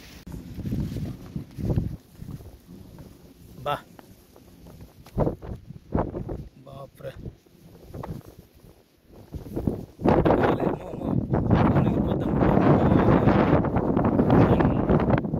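Strong wind sweeps across the Kuwait desert, roaring and buffeting the microphone in uneven gusts that swell into a steady, heavy rush in the second half, with one short spoken exclamation.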